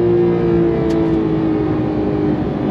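A 2023 Porsche 911 Carrera T with its flat-six engine accelerating through the gears, a loud, steady, close engine drone that rises in pitch as it pulls through third gear.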